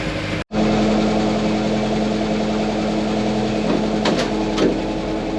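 Engine of a 1962 Jeep FC 150 idling steadily, a close, even low rumble after a brief dropout near the start, with a couple of faint clicks later on.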